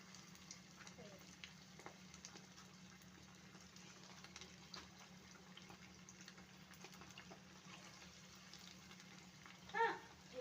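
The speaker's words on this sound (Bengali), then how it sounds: "ভাজবো, মাখিয়ে ভাজছি।" Chicken pakora sizzles in hot oil, a faint, steady frying hiss with a soft hum and small scattered pops, heard with no talking.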